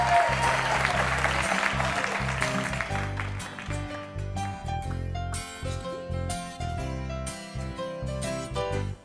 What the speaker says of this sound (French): Alors on va faire venir Serge, on peut applaudir très fort.